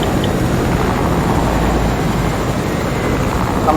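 A steady, loud helicopter engine drone in a video game, with a low rumbling thrum close by, continuous throughout with no voices.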